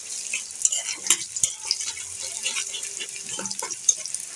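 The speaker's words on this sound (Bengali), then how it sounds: "সরিষার তেল, পেঁয়াজ আর রসুন ভেজে নিচ্ছি। এখন 2-3টা শুকনো মরিচ দিয়ে দিচ্ছি" Onion, garlic and a few dried red chillies frying in mustard oil in a pan, a steady close sizzle with stirring scrapes and light clinks of a utensil throughout, no talking.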